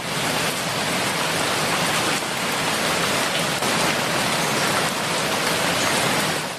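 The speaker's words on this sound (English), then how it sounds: "The rain fell." Steady, heavy rain hisses continuously, with dense patter on surfaces and no other sounds.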